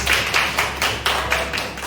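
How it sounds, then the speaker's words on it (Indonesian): A small class claps for a group, about eight sharp, evenly spaced hand claps close by, fairly loud and slightly uneven in strength. "Aku beri tepuk tangan untuk kelompok tadi."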